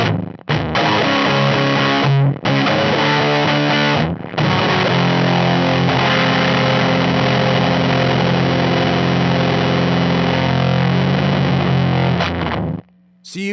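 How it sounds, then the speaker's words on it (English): A Glaive fuzz pedal, with its fuzz and weight turned up, drives a thick, heavily saturated guitar tone: a few short strummed chords with brief gaps, then one long sustained chord that rings out and cuts off near the end. "if I turn up the fuzz even more, and I'm going to add some weight too"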